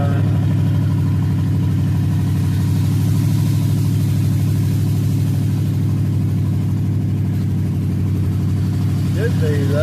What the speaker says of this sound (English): Like it might have a spark plug that's not firing.